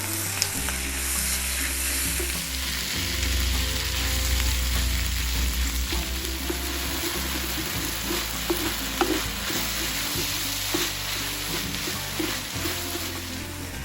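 Pork hits a hot pan in a pork and ginger stir fry, a loud close sizzle that swells then settles into steady frying with stirring and occasional utensil knocks.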